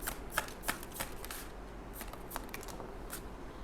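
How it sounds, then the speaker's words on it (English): Tarot cards shuffled close up in a series of crisp riffling bursts and soft slaps, with no talking over them. "Let's get cards out for your person."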